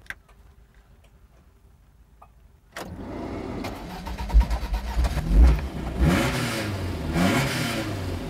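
A lightweight sports car's engine fires up after a few faint ticks, then gives a series of quick, sharp revs and blips over a rough idle.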